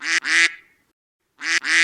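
Two pairs of loud, close duck quacks, each a quick double honk, come in short bursts separated by a second of silence.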